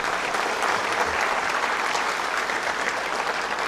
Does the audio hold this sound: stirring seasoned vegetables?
no